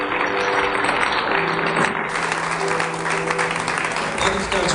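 A church congregation claps loudly and continuously during a pastors' consecration service, dense sustained applause with a voice heard over it.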